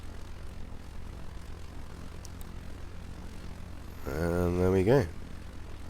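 A UAV drone in the video game Arma 3 takes off, its propeller engine rising in a short, climbing whine over a quiet background while someone talks.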